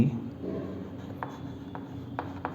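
Pen strokes scratch across paper as an answer is written for a coordinate geometry exercise, soft close scribbling with a few short sharp marks near the end, quiet and without speech.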